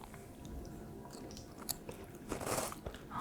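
Someone bites and chews a crunchy snack alongside convenience-store food, soft crunching and mouth sounds up close, growing louder toward the end with no talk.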